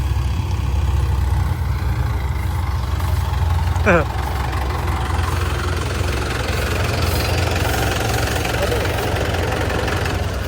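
A steady, low tractor engine drones throughout at an idle, with a brief rising squeak near the middle and no talking.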